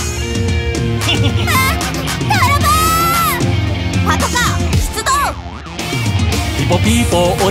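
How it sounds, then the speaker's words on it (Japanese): A police car siren sounds within an upbeat Japanese children's song about vehicles, a wailing tone rising over the bouncy music while sung vocals continue throughout. "パトカー、ピポピポパトカー、世界一勇敢さ、ピポピポパトカー"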